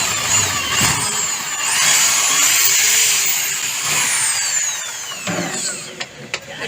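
A power drill bores holes for rivets during a home light-fixture installation job. It gives a loud, close whine that rises and falls in pitch, followed by a few short bursts and clicks at the end.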